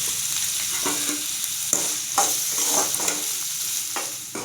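Green chillies and curry leaves being sautéed for banana stem kootu give a loud, close crackling sizzle with rhythmic scrapes of a spatula stirring the pan.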